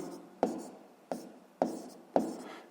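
Quiet scratches and taps of writing while working through a math exercise, four short strokes at a steady rhythm, close and faint.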